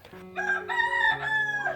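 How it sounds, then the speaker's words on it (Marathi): A rooster in a Konkan village in Sindhudurg gives one clear, fairly close crow of about a second and a half, rising then trailing off, with no talk over it. "येतो आवाज कोंबड्यांचा आरवण्याचा."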